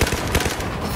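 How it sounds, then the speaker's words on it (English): A grenade blast in Battlefield 4 multiplayer on PS4: a loud, dense burst of booming low rumble and crackling debris filling the whole short moment, close and forceful, with no talking. "Grenade out!"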